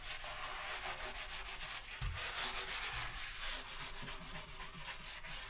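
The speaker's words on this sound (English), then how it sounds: "So we need to rub it more." A Brillo soap pad scrubs a surface in steady back-and-forth rubbing strokes, a soft, close, continuous abrasive scratching with a brief bump partway through.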